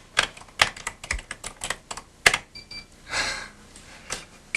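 Fingers type on a Panasonic electronic word processor keyboard, a dozen or so sharp irregular key strikes close up, with a brief whirring print-mechanism sound in the middle.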